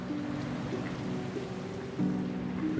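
Steady rain falling in the video game Rite of Passage, a continuous soft hiss with a low droning tone beneath, growing slightly louder near the end, no talking.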